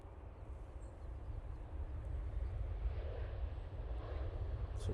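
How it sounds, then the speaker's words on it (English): A Ryanair Boeing 737 arrives after landing at Manchester Airport, its jet engines giving a continuous low, rumbling roar that swells slightly from the middle onward, heard from a distance and with no voices. "Ryanair 737 now arriving"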